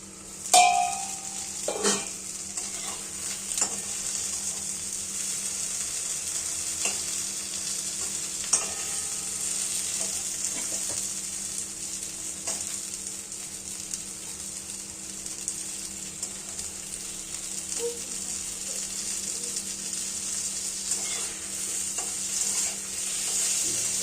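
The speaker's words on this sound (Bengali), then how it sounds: "বেগুনগুলো তেলে একটু নাড়াচাড়া করে নেব।" Aubergine pieces frying in hot oil for a Bengali mola fish chachori, stirred now and then, giving a steady, even sizzle with a few soft utensil clicks and no talking.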